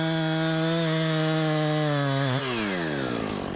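A chainsaw bogs into a log while undercutting it at a narrowing spot, its steady loud whine dropping in pitch partway through as the chain bites into the wood.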